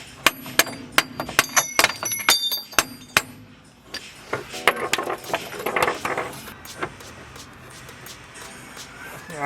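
Sharp metallic hammer taps on trailing arm bushings during installation on an 88-00 Civic or 94-01 Integra rear suspension, a quick irregular series of close, loud strikes followed by softer clinks and shuffling, with no speech.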